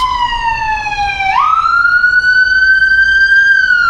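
An ambulance siren in New York City wails loudly and steadily, its tone sliding down, then sweeping back up and holding high, with no talking.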